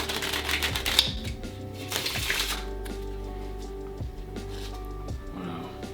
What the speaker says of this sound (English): Let's try shuffle